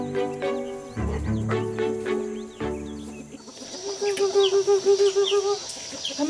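Young chickens of European breeds, eleven half-grown birds roaming a farm field, cluck and chirp in a steady rhythmic series, close and clear, following a stretch of music.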